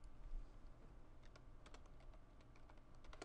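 Soft, quick keystrokes on a computer keyboard during copy and paste shortcuts, a few scattered clicks and short bursts of taps, faint and close, with no talk.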